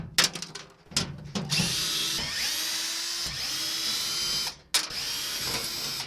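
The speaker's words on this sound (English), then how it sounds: "remove all of these T30 torx bit screws" A power drill backs T30 Torx screws out of the inner tailgate panel on a 2010 Toyota Tundra, heard as close bursts of motor whine with short pauses, clicks and handling noise between runs.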